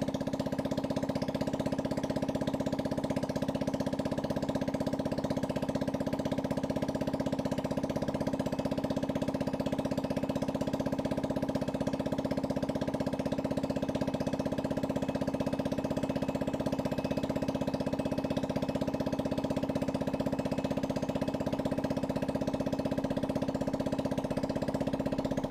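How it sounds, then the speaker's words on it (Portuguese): A Honda Lead scooter engine idles steadily after a radiator coolant change, a constant even hum with a strong droning tone and no change in pace throughout. "Aí a gente vai ligar a moto."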